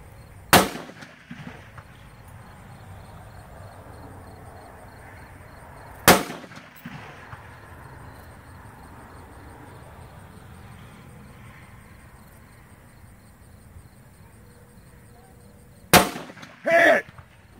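Gunshots fired at swinging steel targets during a women's shooting match: a sharp shot near the start, another around six seconds, then a closely spaced pair near the end, with faint background talk between them.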